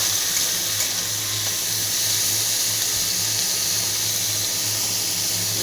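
Onion and garlic frying in hot oil give off a steady, continuous hiss and sizzle with a faint low hum beneath, close and even throughout with no talking.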